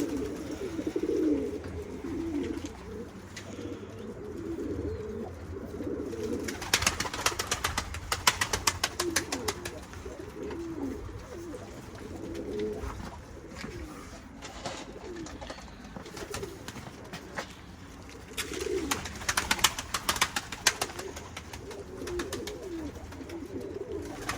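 Pigeons coo steadily nearby, with low throaty calls overlapping throughout, along with occasional bursts of wing flutter and scuffling.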